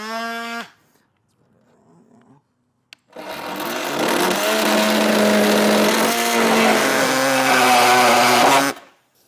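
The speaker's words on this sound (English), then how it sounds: "I'm going to use a multi-tool" An oscillating multi-tool cuts into a 2023 Jeep fender to fit an ARB Safari snorkel, a loud, harsh buzzing that holds steady for several seconds. A brief voice comes first, followed by a short quiet gap.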